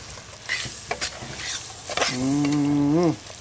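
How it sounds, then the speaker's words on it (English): Green onions, celery and garlic sizzling in a gumbo pot, a steady close hiss with stirring scrapes, joined near the end by a brief low tonal sound like an animal call. "We had the green onions, celery, the garlic, going in there right now."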